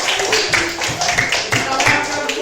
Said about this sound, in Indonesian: tepuk tangan dulu buat sini